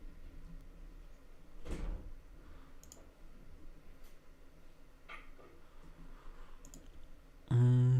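Computer mouse clicks while copying and pasting text: a few faint, sparse clicks spaced across a quiet stretch, ending with a sudden louder tonal burst.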